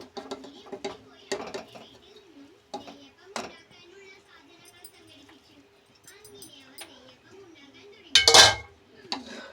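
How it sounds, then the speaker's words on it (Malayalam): A spoon scrapes and clinks against a pot as cooked rice is stirred into curd, with irregular clatters and one loud metallic knock near the end, while birds chirp faintly in the background. "ചോറിട്ട് നമുക്ക് നന്നായി ഇളക്കി യോജിപ്പിക്കാം"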